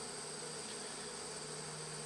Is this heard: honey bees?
yes